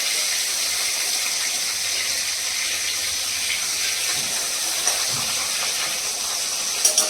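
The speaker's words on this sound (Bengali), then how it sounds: "আমি কীভাবে মাছ ভাজি।" Fish frying in hot oil in a pan, a loud continuous sizzling hiss filling the whole stretch with only faint small knocks underneath.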